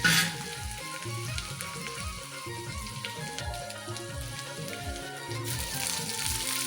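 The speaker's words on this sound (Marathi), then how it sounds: "त्याला पण चांगलं परतून घेऊन व्यवस्थित भाजून घेतलं" Ingredients sautéing and roasting in a pan for biryani until they turn red, giving a continuous sizzling fry with rhythmic scraping of a spatula stirring through it, close and fairly loud.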